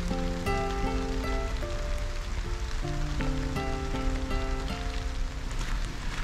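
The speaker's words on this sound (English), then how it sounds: "I actually really love this rainy weather if you're out in the wild." Rain falls in a park on Coney Island, Singapore, during a day hike. The soft, steady patter is even throughout, with faint tonal sounds mixed in.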